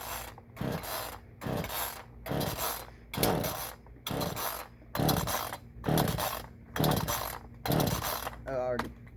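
A Black Max chainsaw's recoil cord is yanked about nine times in a steady rhythm, each pull a loud rasping burst separated by brief pauses, close to the listener.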